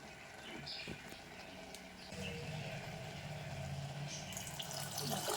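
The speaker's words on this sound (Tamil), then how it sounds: "தண்ணி ஊற்றிடலாம்" Water poured into a cooking pot while making kali, a faint continuous splashing trickle that thickens partway through and runs steadily to the end, fairly quiet and close.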